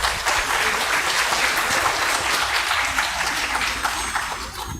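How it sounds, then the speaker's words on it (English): Audience at an international student conference applauds a speaker, a dense, steady wash of many hands clapping close and loud throughout, tapering slightly at the end. "please give big applause for our speaker"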